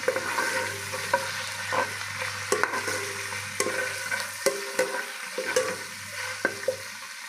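Green chillies and bay leaves fry in hot oil with onion and curry leaves, a close, steady sizzle broken by repeated sharp spatula taps against the pan, with no talking over it.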